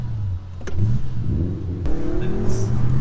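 Audi S4 V8 cruising at night, a steady close engine drone with shifting tonal hum and brief thumps, no talking.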